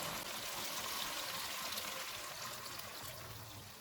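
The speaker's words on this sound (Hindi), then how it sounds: "इसमें 2 कप पानी डालेंगे।" Two cups of water poured into a pan of spiced mutton and bottle gourd curry, a steady broadband wash of liquid splashing and trickling at close range throughout, with no talking.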